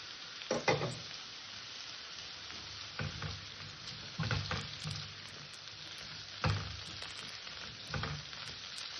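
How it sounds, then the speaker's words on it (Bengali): Capsicum added to beans frying in a pan for an evening pasta snack sizzles steadily while a spatula stirs it in several distinct scraping bursts, close and moderately loud, with no voices. "ক্যাপসিকামটা দিয়ে আমি হালকা একটু নাড়াচাড়া করে নিয়েছি।"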